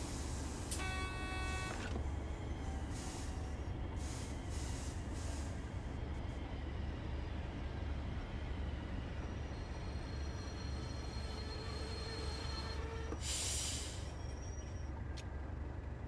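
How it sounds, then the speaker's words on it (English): A Thameslink commuter train in Train Sim World 5 rumbles past over a steady low engine hum, with a brief high horn-like tone near the start and another burst later. "Oh, there's a Thameslink train."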